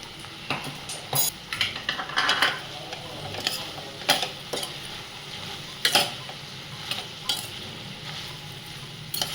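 Brinjal and drumstick pulusu curry being stirred in a pot, with irregular clinks and scrapes of a spoon against metal over a soft sizzle, close and without talk.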